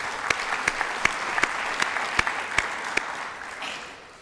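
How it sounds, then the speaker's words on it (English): Audience at a high school hall of fame ceremony clapping faintly: sparse, evenly spaced individual claps over a quiet room murmur, fading away toward the end. "One more round of applause."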